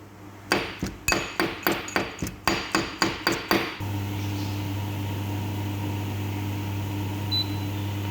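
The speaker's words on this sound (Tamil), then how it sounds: "திருப்பி அதை போட்டு ஒரு உரலில் இடிக்கணும்" About a dozen sharp, evenly spaced pounding thuds from a pestle crushing garlic and ginger in a mortar, close and loud, then they stop and a steady low hum continues.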